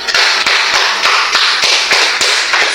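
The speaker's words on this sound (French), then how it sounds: "Acclamez même d'abord pour l'État." Several people clap in a quick, uneven rhythm of sharp, close slaps to acclaim the State, with no talking over it.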